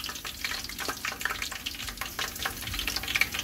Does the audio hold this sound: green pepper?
yes